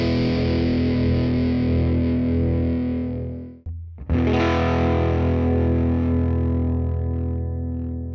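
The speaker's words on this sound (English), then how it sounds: "solid-state distortion tends to sound sharper, while tube distortion is smoother and rounder" A distorted electric guitar sustains a thick, buzzing chord through an amplifier, briefly cutting out before ringing again and slowly fading, loud and alone.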